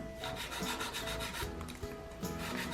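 Steady rasping strokes from a nail file evening out freshly clipped natural nails, a dense continuous scraping rub that stays close and fairly loud throughout, with no talking.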